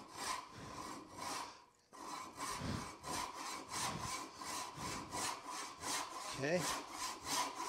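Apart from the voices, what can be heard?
hand saw cutting a wooden tenon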